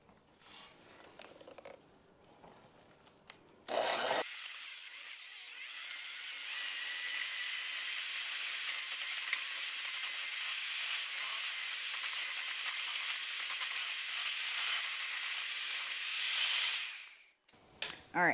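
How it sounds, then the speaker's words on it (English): A handheld electric mixer whirs steadily for over ten seconds, beating a Boursin cheese mixture for a breakfast egg wrap, a sustained high hiss and whine that starts after some clattering and cuts off abruptly. "we're going to take our mixer and just mix this up until it's incorporated and smooth"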